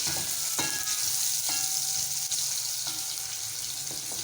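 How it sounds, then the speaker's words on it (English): Onions cook in a pan for a homemade pizza topping, giving a steady airy sizzle with a few light stirring knocks near the start and middle, close and even, with no talking. "I'm cooking my onion."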